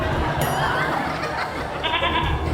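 A person imitates a bleating goat with loud, quavering, nasal bleats in a lively comedy show setting.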